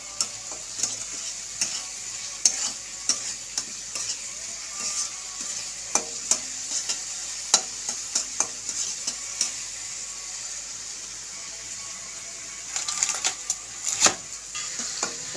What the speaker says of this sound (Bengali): এবার আমি মাছের মাথাগুলো দিয়ে দিলাম আধা ভাঙা ভাঙা করে। এবার এটাকে ভালো করে কষা হবে